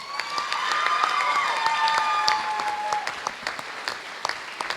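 Applause from the audience at a school board meeting, a dense, steady clapping that holds for several seconds, with a few whistles and cheers over it, then thins toward the end.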